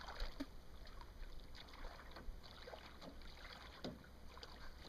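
Paddle strokes from a homemade kayak dip and swish through water at a steady easy pace, close by, with faint wind noise in the background and no talking.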